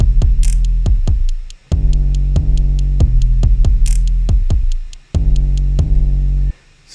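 A kick drum pattern programmed in FL Studio plays back as deep, punchy thumps in a steady repeating rhythm, with a lighter hi-hat-like tick over the top and brief gaps between bars.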